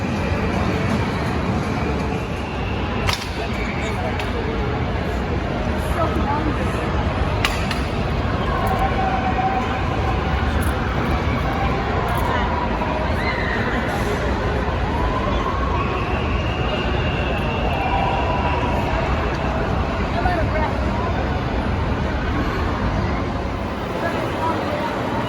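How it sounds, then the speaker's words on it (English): Riding Shredder, a spinning roller coaster at an amusement park, produces a long, steady rush of wind and track rumble that stays loud throughout, with riders' voices faintly mixed in. "now we're gonna go on Shredder, the spinning coaster"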